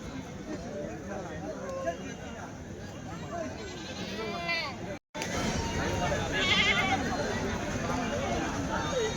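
Goats bleat amid a busy weekly goat market crowd, their wavering cries rising over steady chatter and background hubbub.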